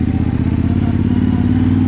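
A Yamaha Ténéré 700 World Raid 2023 motorcycle engine idles close by during an oil change, a steady low throbbing rumble with a faint rattling clatter, holding even for about two seconds.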